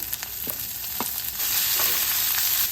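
Chopped onion, chili and curry leaves frying in a pan for a ragi veggie bun dosa: a bright, continuous sizzle, close and fairly loud, with a few brief stirring scrapes.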